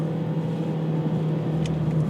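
The 1.5-litre engine of a 2019 Ford Escape SEL hums steadily from inside the cabin, a low continuous drone with road noise and no talking.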